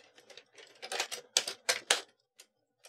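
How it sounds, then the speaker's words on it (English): An Addi 46-pin circular knitting machine clicks as it completes a round, giving a quick series of sharp, close mechanical clacks that bunch together and then trail off into a couple of lighter ticks. "you hear that clicking sound when it's finished a round"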